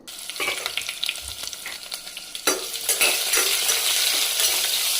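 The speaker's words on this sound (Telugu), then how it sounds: "తాలింపు గింజలు వేసుకుందాము." Tempering seeds hit hot oil and crackle into a loud, close sizzle. Scattered pops and a few utensil clinks sit over it, and the frying grows denser and steadier as it goes on.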